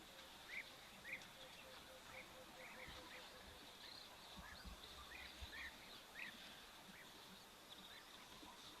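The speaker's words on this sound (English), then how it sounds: "I can hear some European bee eaters flying above." European bee-eaters calling overhead at a waterhole, a series of faint, liquid chirps repeating irregularly against a steady hiss of distant ambience.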